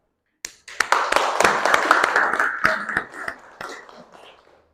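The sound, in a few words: audience applauding a group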